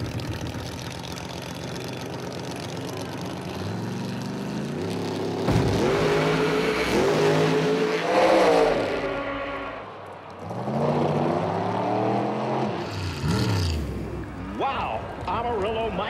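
No-prep drag race cars on an unprepped street-style track roar through high revs and launch, engines climbing and shifting with loud, raspy intensity, then a brief dip before another surge of revving; no speech is audible.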